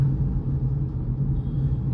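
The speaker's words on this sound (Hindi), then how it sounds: "ये अपना है गाड़ी चल रही है" Inside a Tata Punch CNG on the move, a low, even cabin rumble with a steady hum holds throughout, muted and smooth with no sharp sounds.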